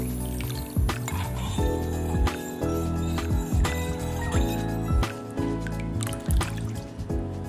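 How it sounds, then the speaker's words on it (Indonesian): A spoon stirs cooled coffee mixed with chocolate for tiramisu, giving close, repeated liquid sloshes, drips and soft clinks against the container in an uneven rhythm. "Kopi yang sudah dingin tadi kita aduk sebentar hingga coklatnya menyatu."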